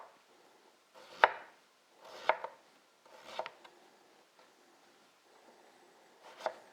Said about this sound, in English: I guess, grate the celeriac, but we'll just cut it up.